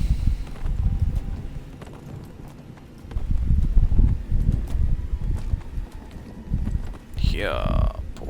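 Horse hooves clip-clop in a video game, a steady run of soft thudding steps that grows louder midway, followed near the end by a rising whinny-like call, with wind in the background.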